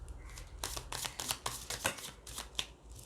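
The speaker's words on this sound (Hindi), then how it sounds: "जब मैं आपके लिए शफलिंग कर रही हूँ" Tarot cards are shuffled by hand in a quiet room, producing soft, rapid riffling and flicking bursts, close and gentle.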